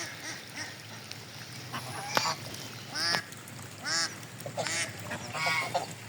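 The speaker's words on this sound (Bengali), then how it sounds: "আর ওই যে ওইটা চীনা হাঁস, ওইটা গোসল ভেসে বেড়াচ্ছে এখানে।" Chinese geese bathing and floating on a pond with white water lilies give a series of nasal honks and calls, spaced across several seconds at moderate distance over a soft outdoor background.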